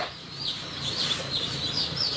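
Black Minorca chicks hatching in an incubator make a short burst of high, thin peeping and chirping that carries on continuously over a low hum in the background.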